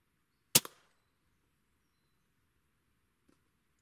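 A single sharp crack from a Weihrauch HW100 air rifle rings out close by, decays quickly into quiet, and is followed by a faint distant knock.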